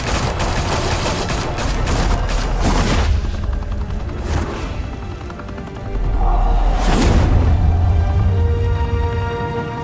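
Gunfire in the Batman: The Telltale Series video game: loud bursts of shots and booms crackle through a dense, continuous game mix, swelling again near the end.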